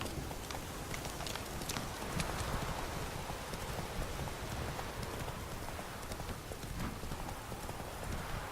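Roach, a horse in The Witcher 3, gallops steadily with a continuous drumming of hooves. The hoofbeats come through a dense, noisy wash that sounds like rain.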